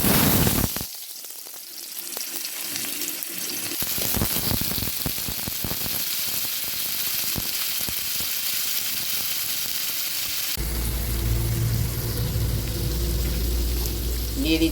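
Potato pieces hit a hot wok with a loud, steady sizzle that crackles and hisses continuously, intensifying as more pieces go in.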